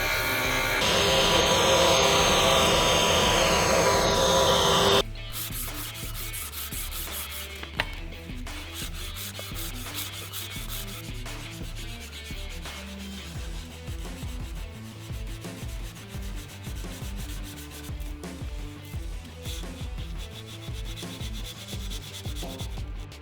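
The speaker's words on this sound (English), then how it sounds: "going to disc sand right about around through there" A disc sander working the steel blade and bevels of a butcher's cleaver, a loud, steady grinding rasp for the first five seconds, then a quieter stretch of scattered scraping and handling noises.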